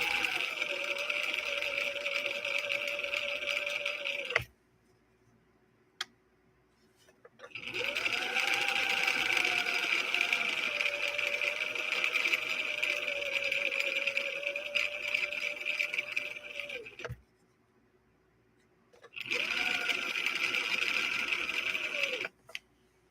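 A sewing machine runs on zigzag stitch in three long buzzing bursts with a whirring motor pitch, close and steady, separated by short pauses.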